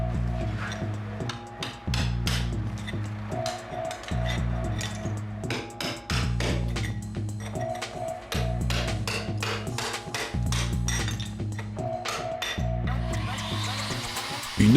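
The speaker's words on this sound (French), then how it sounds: "vous devez encore dégager la rainure à la main avec un marteau et un burin" A hammer strikes a chisel to clear a groove cut into a wall, a rapid run of sharp metallic taps, close and loud, over a steady droning hum.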